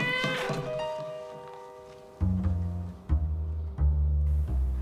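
A cat meows, and it is loud and near, while heavy low thumps and a music score play underneath with no speech.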